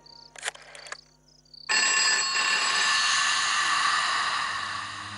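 A telephone rings loud and close inside a home, a continuous electronic ring starting abruptly after a few short clicks and holding to the end.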